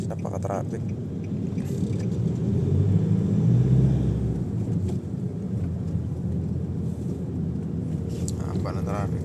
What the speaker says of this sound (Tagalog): Ayan guys, napaka-traffic.